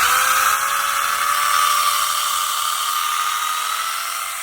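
An AVANT electric pole saw motor runs steadily at high speed, loud and close, with a constant whine that fades slightly toward the end.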